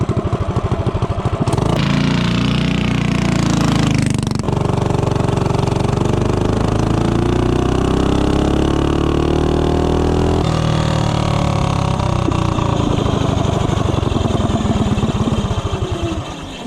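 Tillotson 212 small engine fitted with a long 3-inch intake and 24mm flat-slide carburetor, revving loud and continuous as it accelerates from 0 to 30, pitch climbing steadily with a brief dip partway through.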